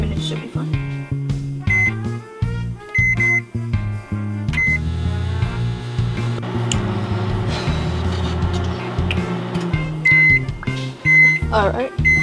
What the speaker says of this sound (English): time to microwave these